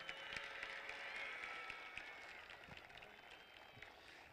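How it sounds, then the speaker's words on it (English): Audience applause at a 2015 Desert View high school graduation ceremony: a faint, steady wash of clapping from a crowd, somewhat distant, with no talking over it. "One more round of applause for Betsaida Argüelles."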